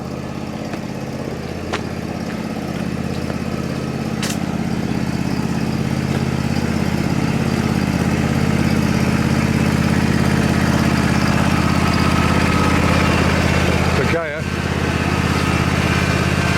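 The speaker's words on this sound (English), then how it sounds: "So the Mini's coming back to the main garage." A classic Mini race car, painted in a matte Gulf livery base colour, drives back to the main garage, its steady engine drone loud and close and holding fairly even throughout.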